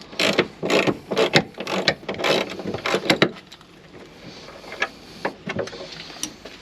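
A ratchet wrench works on nuts and bolts during a vehicle rebuild in a car graveyard, with rapid bursts of clicking followed by sparser, quieter ratchet clicks close by.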